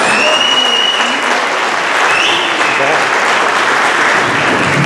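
A crowd at a seniors talent showcase at the state summer games gives a loud, sustained round of applause welcoming a comedian, thick continuous clapping with faint whistles and cheers mixed in.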